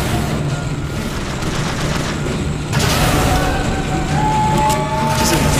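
Gunfire in the video game Bioshock Infinite, with continuous dense shooting and distant booms layered over a loud busy battle din, and no talk.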